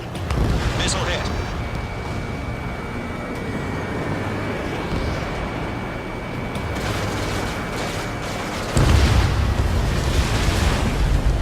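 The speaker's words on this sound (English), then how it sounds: "Locked. Missile hit." A missile strikes and explodes during aerial combat in Ace Combat 7, a rumbling blast under constant jet engine roar, with a heavier boom near the end and radio voices talking over it.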